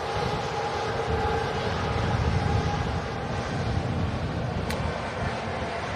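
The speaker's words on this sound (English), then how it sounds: "Singapore A350 creeping onto the runway now" A Singapore Airlines A350 airliner creeps onto the runway, its engines giving a steady, broad, fairly loud roar that holds evenly throughout, with no voices over it.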